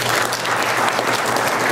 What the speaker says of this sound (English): Please hold your applause until we're done.